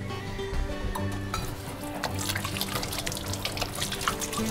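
Tap water runs into a kitchen sink while hands are washed, a steady close splashing and trickling with irregular spatters and faint clinks of movement throughout.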